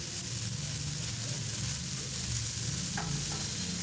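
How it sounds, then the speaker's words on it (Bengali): Radish, potato, pointed gourd, pumpkin and tomato fry in hot oil, giving a continuous close sizzle and crackle with a few brief pops. "সব সবজি দিয়ে এখন তেলের মধ্যে একটু ভেজে নিচ্ছি"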